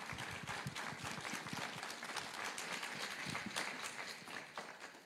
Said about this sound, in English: I want to just give everyone a round of applause